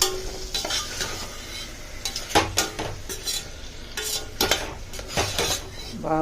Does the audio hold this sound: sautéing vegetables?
yes